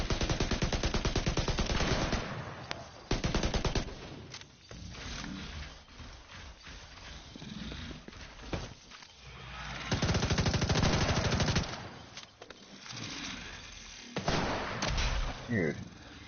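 Bursts of automatic gunfire from the video game Division 2, rapid rattling volleys repeating in several loud stretches with pauses between, under occasional talk.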